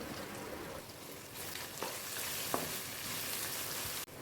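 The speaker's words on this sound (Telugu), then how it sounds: "ఉల్లిపాయ వేసి వేపుకోవాలి. ఎండుమిర్చి ఈ విధంగా కట్ చేసుకొని వేసుకోవాలి." Onion and dried red chillies fry in a pan with a steady soft sizzle, close but fairly quiet, broken by a few brief stirring clacks and no talk.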